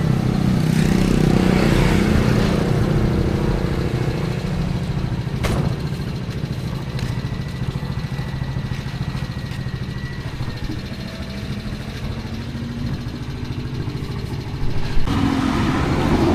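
A parked motorcycle's engine is left running at a house construction site, idling steadily and continuously in the background with a brief louder bump near the end.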